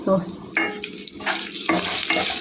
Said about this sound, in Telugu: కొద్దిసేపు వేగిన తర్వాత మెత్తటి ఫ్రై అండి ఇది